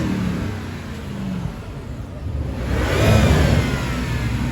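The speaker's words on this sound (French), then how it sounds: "Barbie et Ken en Lamborghini Urus" A Lamborghini Urus on a Paris street revs its engine, a rough mid-range roar that swells louder around the middle and holds near, heard alone without voices.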